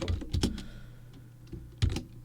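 A computer keyboard is typed on late at night while code is being written. Close, uneven clusters of clicky keystrokes come in short bursts separated by brief pauses, with no speech.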